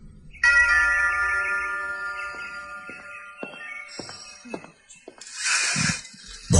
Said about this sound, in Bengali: লাস্টিক উঠে গিয়ে আবার কলিং বেল টিপল